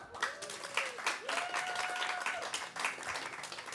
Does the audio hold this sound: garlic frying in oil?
no